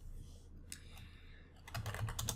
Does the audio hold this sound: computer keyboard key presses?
yes